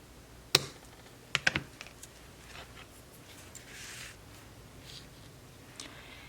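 Scissors trim a shabby chic fabric edge beside gold trim: three crisp, close snips early on, two nearly back to back, then soft fabric rustling and small handling noises.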